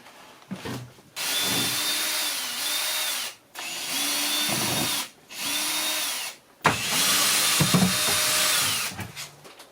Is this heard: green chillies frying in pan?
no